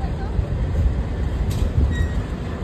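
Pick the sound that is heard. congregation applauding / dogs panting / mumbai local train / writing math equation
mumbai local train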